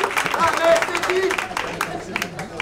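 An audience claps after a start-up pitch at an evening pitch event, moderate clapping mixed with talk from voices in the room.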